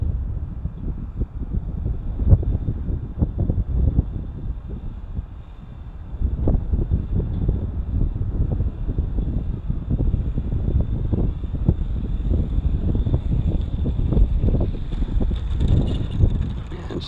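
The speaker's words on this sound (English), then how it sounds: "Boy, the wind is picking up. Gusting up." Strong gusting wind buffets the microphone at an outdoor RC flying field where an E-Flite EC-1500 and Timber planes are flown, a steady low roar with rising surges throughout and no talk.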